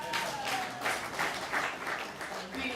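At a Kiruhura District, Uganda, local government health sector review meeting, an audience claps in a quiet, slightly distant, pulsing round of applause with faint voices mixed in.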